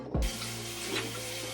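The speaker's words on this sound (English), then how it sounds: "First, wash your hands," A tap runs steadily while hands are washed, with a short knock at the start and then a continuous, close rush of water.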